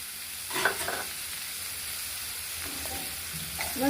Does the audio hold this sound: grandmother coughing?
no